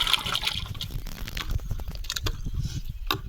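Potato wafers for kachri drop into hot water in a large pot over a big stove, giving soft watery splashes and sloshing that are fairly quiet and close.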